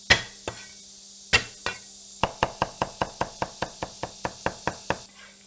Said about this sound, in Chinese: 这个姜和蒜就拍一下，剁就行了